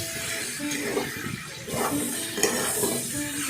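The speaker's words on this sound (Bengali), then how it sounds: "জিরের গুঁড়ো দিয়ে ভালোভাবে নাড়াচাড়া করলাম।" Cumin powder being stirred into pumpkin curry as it fries, with a steady sizzle and soft repeated scraping of a spoon around the pan, close and continuous, with no talk.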